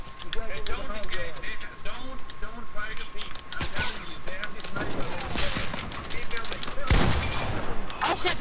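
Dense gunfire in the Fortnite video game, rapid overlapping shots and bursts mixed with game effects and building sounds, under continuous talk from players.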